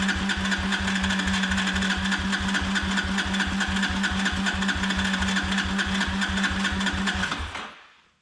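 A Honda TRX ATV engine cranks without catching, a rapid even starter chug churning steadily for about seven seconds before cutting off.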